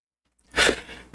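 A single sharp sneeze from a person, a quick inhaled build-up bursting into a loud close release, then trailing off into quieter breath.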